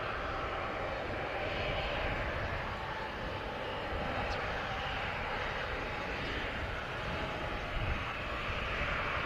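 Airplane landing on runway 07 at Montego Bay, Jamaica, a steady broad jet roar heard from the distance without pause and with no voices.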